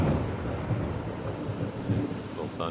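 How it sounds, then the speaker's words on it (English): Low rolling thunder rumbles steadily beside light rain outdoors in hot summer weather, a continuous distant-sounding roar with no voices over it. "a little thunder there"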